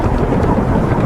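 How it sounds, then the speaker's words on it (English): Deep rolling rumble of thunder from an approaching storm, loud and continuous with no distinct cracks, heard alone for about a second. "The storm's getting closer"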